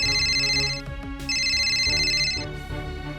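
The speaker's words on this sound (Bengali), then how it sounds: "এই ধরো আমার কল আসছে।" A mobile phone ringtone for an incoming call plays as a bright, repeating electronic melody, fairly close and alone, pausing briefly before continuing.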